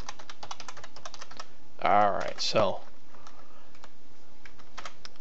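Fast clicking of computer keyboard keys while coding a C++ Qt TCP server, with rapid close taps before and after a brief spoken phrase.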